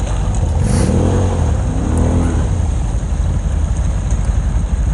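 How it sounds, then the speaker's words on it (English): Off-road buggy in four-wheel drive ploughing through deep water at a poker run: a loud, steady engine roar with rising revs and churning water, continuous and close throughout. "Put that little buggy in four-wheel drive."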